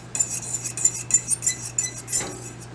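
A utensil stirs an egg into hot soup in a pot for egg drop soup, with a series of quick metallic scrapes and clinks in an uneven rhythm, close and fairly loud.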